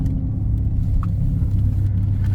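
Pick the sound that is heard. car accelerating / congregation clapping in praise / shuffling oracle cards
car accelerating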